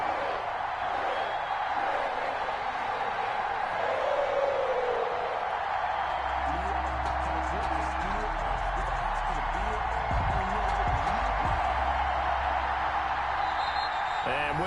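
Continuous stadium crowd roar from a football video game, a sold-out crowd for a Cincinnati Bengals versus Cleveland Browns kickoff, steady and dense throughout with occasional swells and whistling.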